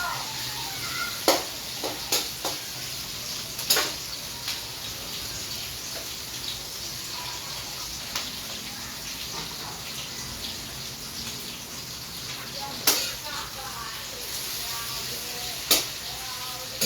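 Crushed onions sautéing in a pan for Filipino pork steak, a steady wet sizzle with occasional sharp clinks and scrapes of a spatula against the pan.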